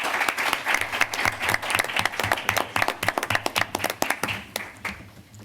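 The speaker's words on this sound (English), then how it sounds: "Let's give these students a round of applause" A school board meeting audience applauds a group of students: a dense, lively round of clapping with distinct, close hand claps, steady throughout and fading slightly at the end.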